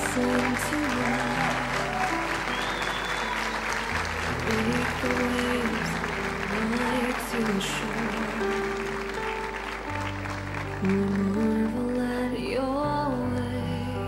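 Church congregation applauding during a worship celebration, steady sustained clapping running throughout over sustained musical tones, moderately loud and continuous.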